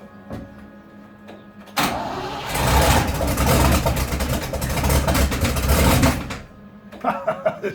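A 1972 Range Rover engine fires up after a quiet lead-in and runs loudly with a rough, throbbing roar from a leaking, unsealed exhaust, holding for several seconds before dropping back to idle with uneven pops.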